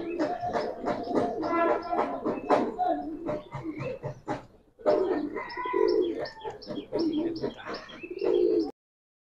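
Pigeons, giribaz and coloured breeds in a loft collection, coo and chirp close by in overlapping bursts, with a short lull midway before the calls resume.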